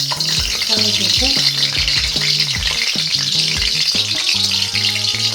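Hot oil sizzles steadily in a pan while garlic is added for home-made gobi manchurian, a dense continuous frying crackle with occasional stirring rattles, over a background of music.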